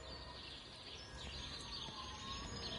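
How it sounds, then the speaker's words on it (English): Birds chirp and call in the ambient soundscape of the video game Everybody's Gone to the Rapture, a faint layer of scattered tweets over a soft steady outdoor hiss. "Quite a lot of birds."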